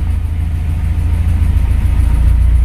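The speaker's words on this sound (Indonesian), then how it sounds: "Mesin langsung tek jreng." A 1981 Mitsubishi Colt T engine idles steadily with a loud, low, rumbling throb close to the microphone, with no voices over it.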